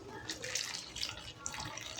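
Water runs and splashes steadily into a cooking pot for a couple of seconds, a close, hissing pour with faint clinks, no talking.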